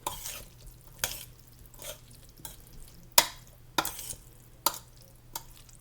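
A dish is stirred in a pan with a series of sharp utensil knocks about every half second to second, each followed by a brief soft scrape, close and otherwise quiet.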